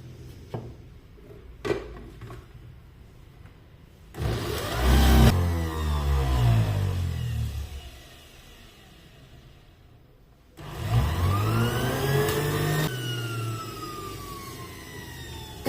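A Bajaj electric juicer runs in two loud bursts, each a rising, whining motor spin-up that holds then fades, with quiet gaps and faint clicks between.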